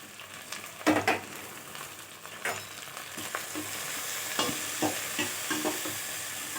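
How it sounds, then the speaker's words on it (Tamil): Sliced large onions sautéing in a pan while cooking coconut milk rice, with a soft, steady sizzle and repeated scraping strokes of a stirring spoon. "இது நல்லா கொஞ்சம் வதக்கணும் வெங்காயம் ஓரளவுக்கு வதங்கியிருக்குதுங்க"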